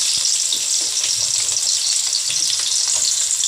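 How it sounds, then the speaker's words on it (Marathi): Sliced onion frying in hot oil for a dum biryani, a steady close sizzle with dense crackling and occasional pops and stirring scrapes, continuous without talk. "आता आपल्याला कांदा हा लालसर भाजून घ्यायचा आहे तेलामध्ये"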